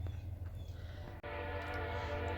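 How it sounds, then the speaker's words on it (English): Train running on nearby tracks outdoors beside a strawberry patch, a steady low rumble with a tonal drone that grows fuller midway, moderately distant and alone. "And of course there's a train now. Curse of living near the tracks."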